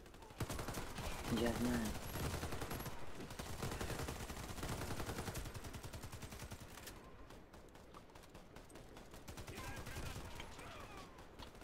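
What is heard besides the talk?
gunfire in video game Warface, Tavor TAR-21 rifle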